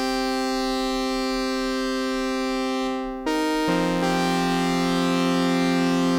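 A Behringer synthesizer holds a sustained buzzy, harmonic-rich tone routed through a low-pass filter into a high-pass filter, loud and continuous, with a brief dip and a stepped shift in timbre partway through.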